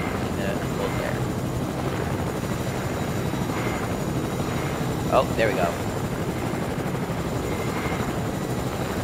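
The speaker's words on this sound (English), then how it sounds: "No, don't notice the helicopter." A video game helicopter flies nearby, its rotor a steady, loud droning wash that runs the whole time, while someone speaks briefly over it.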